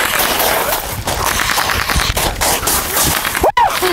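Video game gunfire heard under a noisy, chaotic mix, with bursts of rapid shots running through the few seconds and a sharp dropout near the end; no clear speech.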